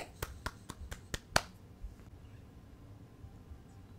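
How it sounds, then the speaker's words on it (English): Six sharp, evenly spaced hand claps ring out one after another, close and fairly loud, then stop abruptly and leave quiet room tone. "Start clapping."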